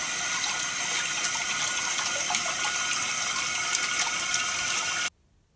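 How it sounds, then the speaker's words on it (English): Water rushes steadily and loudly through a toilet fill valve, flushing debris, for several seconds, a constant hiss that cuts off abruptly into silence. "let's see if we can flush any debris out of there"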